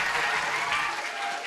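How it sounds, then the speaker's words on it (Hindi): An audience at a ceremony honouring Bihar police sub-inspector exam toppers applauds loudly, a thick and continuous burst of clapping that fades slightly toward the end. "तो एक बार इनके लिए जोर से ताली होना चाहिए"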